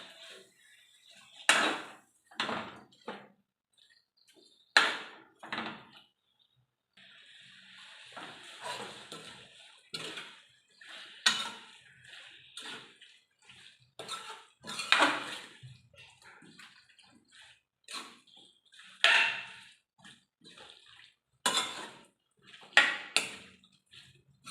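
Pickle stirred in a pot on the stove: irregular scrapes and knocks of a spoon against the pot, with a soft wet churn between strokes, close and fairly quiet.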